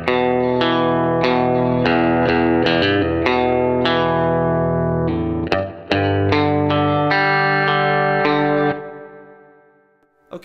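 A distorted electric guitar through a PodFarm amp simulator in Reason plays ringing chords and single notes with chorus and reverb, then lets the last chord fade out alone.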